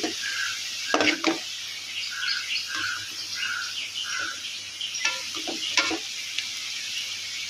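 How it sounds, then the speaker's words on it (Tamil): Bonda fries in oil over a low flame with a steady sizzle and hiss, broken by a few sharp clinks of a utensil against the pan, birds chirping faintly. "அடுப்பு வந்து கண்டிப்பாக சிம்மில் தான் வச்சு பொரிக்கணும்"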